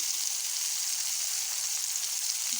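Bitter gourd sautéing in a clay pot, giving a soft, steady sizzle that stays faint and even throughout with no voices.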